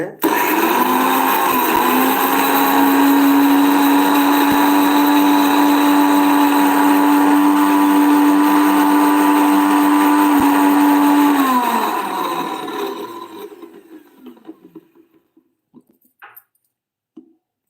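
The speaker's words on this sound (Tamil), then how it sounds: "இதை நல்லா இதை அரைச்சி எடுத்துக்காங்க எந்த அளவுக்கு அரைக்க முடியுமோ அந்த அளவுக்கு அரைச்சி எடுத்துக்காங்க" A mixer grinder whirs loudly and steadily as it grinds soaked ingredients with a little water, running continuously for several seconds before winding down into silence with a few faint clicks.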